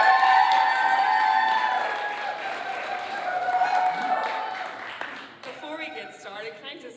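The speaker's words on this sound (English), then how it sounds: "let's hear a big cheer for Claire" Audience at a celebration event cheering and clapping, a loud sustained wash with whoops and ringing tones that fades slightly, then gives way to a voice speaking near the end.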